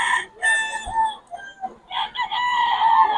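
Chickens and a rooster crow and cluck at a rainy Bocaue market, loud and close in repeated calls, with someone talking between them.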